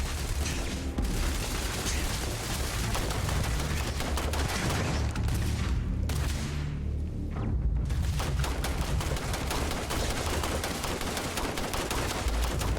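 Automated turrets firing in Starfield: a dense, sustained barrage of rapid gunfire, loud and continuous, with brief gaps partway through before the shooting resumes.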